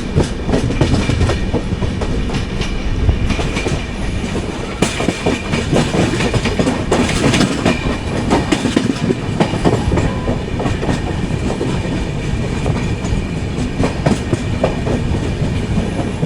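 The 12077 Jan Shatabdi Express from Chennai Central to Vijayawada, heard from inside an AC chair car, rumbles loudly and continuously with rhythmic clickety-clack of wheels over rail joints throughout.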